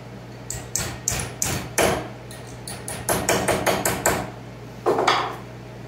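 A sheet metal door skin being bent over a vise with a hammer: a run of close, ringing metallic blows in uneven clusters, some quick and rhythmic, with a short pause before a final strike, over a steady workshop hum.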